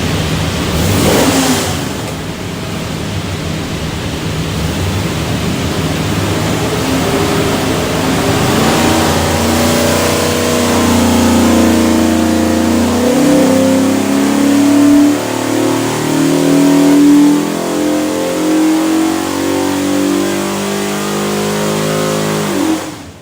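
A 347 Ford stroker engine for an Everett Morrison Cobra revs on a dyno, rising steadily through a long, loud pull with a climbing engine tone that peaks and then drops away near the end.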